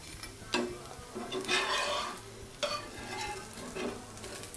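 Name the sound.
rava dosa cooking and being folded on the pan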